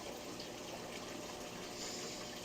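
Water steadily draining out of a 240-gallon freshwater aquarium, a continuous close rushing, gushing flow that holds at an even level throughout with no voices.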